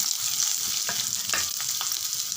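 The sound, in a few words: sliced onions sautéing in a pan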